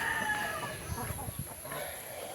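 Heritage chickens on a farm give short, scattered clucks in the near background over a steady hum, with faint outdoor ambience.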